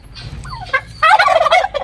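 A turkey gobbles loudly and close by in a rural Odia village yard, with a short burst of rapid gobbling calls and no talking over it.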